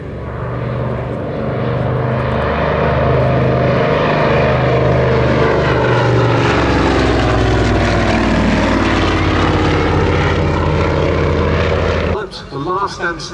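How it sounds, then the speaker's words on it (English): A post-war civil Avro Anson, an Avro 19 twin-engine propeller aircraft, flies at an evening air show display, its loud droning engines swelling and shifting pitch as it passes, and crowd noise follows at the end. "It was built as a post-war civil Anson, an Avro 19."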